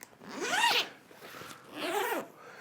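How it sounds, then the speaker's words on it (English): The zipper of a gig bag is pulled open in two quick, rasping strokes separated by a short pause, close and fairly quiet. "Very, very rigid zippers."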